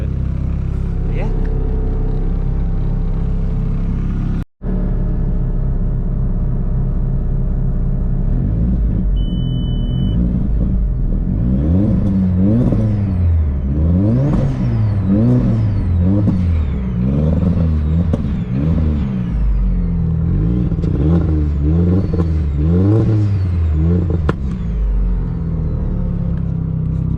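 A Volkswagen GLI engine warms up at a steady, rumbling idle, then is revved repeatedly in quick rising and falling bursts, loud and close throughout.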